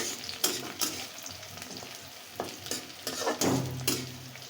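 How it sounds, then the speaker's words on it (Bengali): Fresh onions frying in a pan with a steady close sizzle, broken by scrapes and clatters from stirring at irregular intervals. "নতুন পেঁয়াজ একটু বাগার হয়েছে"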